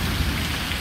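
Steady rain falls outside a front yard and garage during a storm, a dense, loud hiss of water on surfaces with a low rumble underneath and no voices.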